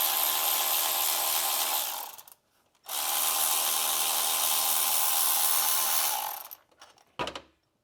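Two long, steady bursts of harsh grinding tool noise as a 13mm starter motor bolt is loosened on a Renault Clio 1.2 16v, with a brief pause between them and a short knock at the end.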